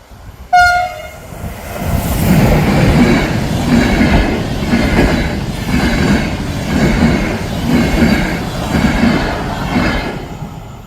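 A train passes close by near Šenov in the Czech Republic, opening with a loud horn blast, then a sustained rumble with rhythmic wheel clatter and a faint squeal, with no voices.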